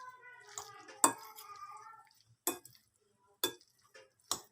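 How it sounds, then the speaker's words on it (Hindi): Pasta salad being tossed with vegetables in a bowl, giving a few sharp, close clinks and scrapes of utensil against the dish at irregular intervals, with soft stirring between them. "ऐड करने के बाद जो है वो हम इसको इस तरह से मिक्स कर देंगे।"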